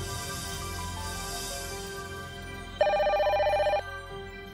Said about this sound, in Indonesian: ada telepon dari Andre di line 2